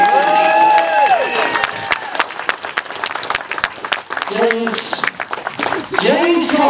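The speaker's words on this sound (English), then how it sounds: "Ladies and gentlemen, round of applause." Crowd applause and cheering at a motorcycle speedway meeting on the Isle of Wight, loud and close, with shouts over steady clapping that thins in the middle, and an announcer's voice heard at the start and end.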